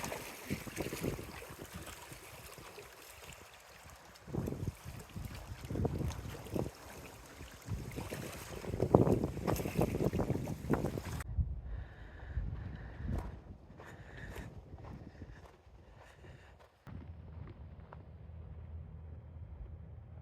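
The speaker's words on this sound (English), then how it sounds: "You can hear the boats going by along the trail and the wind blowing through the trees." Outdoors beside a Sierra lake at Twin Lakes, California, a passing boat and gusting wind through trees blend into a low, rumbling rush with wind buffeting the microphone, followed by a quieter stretch of distant motor hum and soft water sounds.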